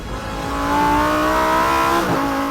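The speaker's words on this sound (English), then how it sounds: "It's in Sport and Strada where you make the most of that naturally aspirated V10 engine" The naturally aspirated V10 engine of a Lamborghini Huracán revs and climbs steadily in pitch, heard close and loud, then drops sharply as it lifts off near the end.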